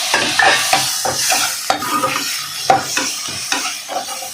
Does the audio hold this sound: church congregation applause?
no